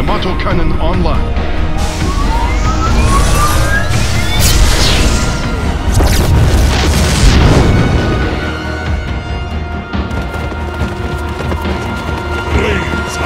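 Yamato Cannon blasts and explosions in a battlecruiser video game, heavy booming crashes and rumbling impacts layered over continuous loud battle noise, with voice lines heard amid the action.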